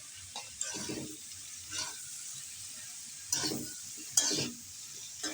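Bitter gourd fried with small shrimp, garlic, onion, green chili and salt is stirred in a pan: several scraping strokes over a steady close sizzle, with no talking.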